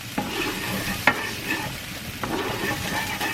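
Food stirred in a pan while it sweats before passata goes in: steady frying sizzle with scraping utensil strokes and a couple of sharp knocks against the pan, close up, no talking.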